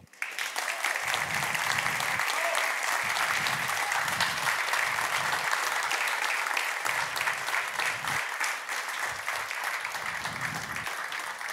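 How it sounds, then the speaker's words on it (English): Sustained spontaneous audience applause after an economics talk on inflation at a conference, full and even clapping that continues loudly for the whole stretch, with low voices murmuring underneath. "I've never seen anyone get spontaneous applause to this type of graph"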